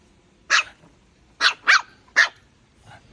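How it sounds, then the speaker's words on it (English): A new puppy gives four sharp, loud barks, one alone, then two in quick succession and a final one, close by in a quiet room, with a faint trailing yip at the end. "That is really loud barking."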